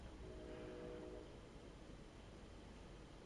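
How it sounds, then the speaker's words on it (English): A train horn sounds outside within a Nier Replicant game scene, giving a faint, steady tone for about a second before fading into a low, constant background hiss. "There's a train somewhere outside. I hear the honks, the horns."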